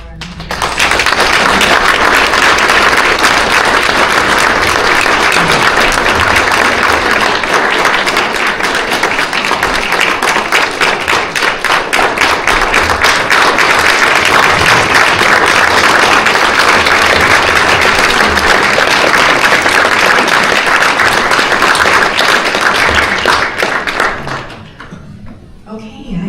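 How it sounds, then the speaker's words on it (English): Sustained, dense applause from a conference audience at a national event on family court violence, loud and steady for about twenty-four seconds before tapering off abruptly near the end. "Please join me again in an applause of appreciation to all our members."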